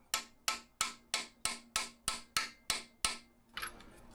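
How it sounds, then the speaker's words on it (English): Soft brass parts are hammered into a 347 stroker engine build: ten sharp, evenly spaced metallic blows land close and loud, followed by a few lighter, scuffling taps. "Because some of these you hammer in and they go in really easily."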